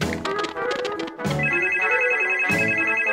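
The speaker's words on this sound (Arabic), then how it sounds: "أو الهاتف يرن" Telephone ringing in a girls' makeup video game: a bright, repeated electronic ring in two bursts with a short gap between, loud and up close, with no talking.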